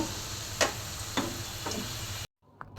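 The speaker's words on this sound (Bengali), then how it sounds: "আর বুট ভাজা হচ্ছে।" Chickpeas fry in oil in a home kitchen while iftar snacks are prepared, giving a steady close hiss of sizzling with a few sharp pops before the sound cuts off abruptly.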